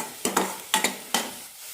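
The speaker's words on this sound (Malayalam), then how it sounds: "മൂന്നോ നാലോ മിനിറ്റ് നന്നായി വഴറ്റി കൊടുക്കണം" Soya keema masala sautéing in a pan, a few distinct spoon scrapes and stirring strokes over a faint sizzle, close and fairly loud with short gaps between strokes.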